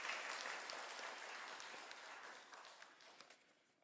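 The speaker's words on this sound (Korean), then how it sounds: "우리 박수로 한번 다시 한 번 더 격려하도록 하겠습니다" A church congregation applauds its pastor during a Korean afternoon worship service, steady broad clapping from a crowd that stays fairly even and slowly eases off over several seconds.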